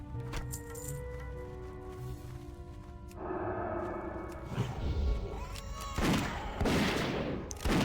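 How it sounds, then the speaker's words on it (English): A hunter fires a gun in World of Warcraft: scattered gunshots and impact crashes that grow louder and denser toward the end, over steady game music and ambience. "I shoot ahead to try to draw him to me."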